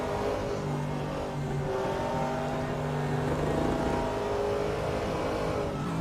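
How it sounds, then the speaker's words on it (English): A V8 race car engine singing out at high revs as it crests a hill on the Mount Panorama circuit, a sustained, loud, steady roar heard alone throughout. "You hear the engine out of that V8 singing out as they come over the top of the hill."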